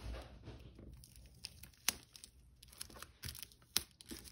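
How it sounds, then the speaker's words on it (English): Adhesive tape being pulled and handled while packing an Etsy order: quiet crinkles and short sharp tearing rips at irregular intervals, with two distinct louder strips near the middle and end. "Take some tape, lay it down in the back"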